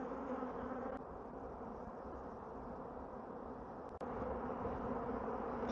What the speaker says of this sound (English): So we are basically in the start of a swarm here. Very frantic.